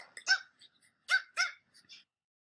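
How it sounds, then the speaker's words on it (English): A dog barks several times in short sharp yaps spaced through a quiet background, fairly faint and alone with no talking. "We had a dog barking."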